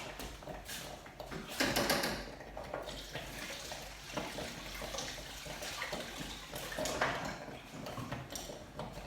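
Something is rinsed under a running tap in a kitchen: water gushes steadily with splashing surges and a few clattering knocks, fairly close.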